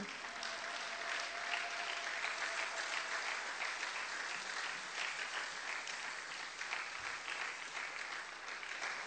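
A church congregation applauds steadily and loudly throughout, a dense continuous clapping that holds an even level from start to finish, with no voices standing out.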